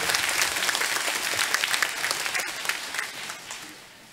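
A church congregation at a Mass for Saint Joseph bursts into loud, dense applause to welcome Bishop Joseph Đỗ Quang Khang, strong at first and gradually tapering off.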